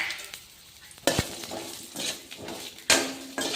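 Eggplant cooked in oil with turmeric and red chilli powder is stirred in a pan: soft scraping and sizzling, punctuated by a few sharp utensil knocks against the pan, close and without voices.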